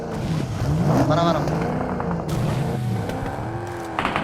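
A vehicle in a battle royale game drives close with a loud, wavering engine drone that rises and falls in pitch, heard under excited talk.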